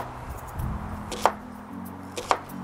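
A knife cuts crosswise through a halved onion on a cutting board, with a couple of sharp chops standing out above soft handling sounds, close and fairly quiet.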